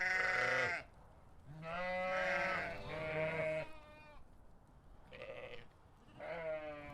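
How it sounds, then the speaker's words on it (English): Several sheep bleat on a backcountry trail, repeated wavering calls coming in separate bursts with short pauses between them, fairly close and clear, with no talking. "No, sheep."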